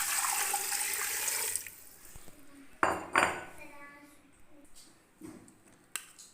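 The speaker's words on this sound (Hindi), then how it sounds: "एक बाउल पानी का लिए वो मैं इसमें शामिल करने लगा" Water from a bowl splashes into a pressure cooker holding bones, a rushing pour at first, followed by clinks and knocks of metal cookware and utensils in a kitchen.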